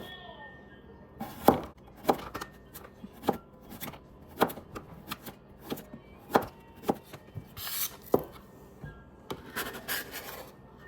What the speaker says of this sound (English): Chopping it up fine.